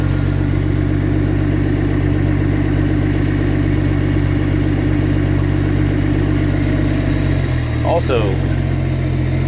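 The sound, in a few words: old Toyota engine running in the cold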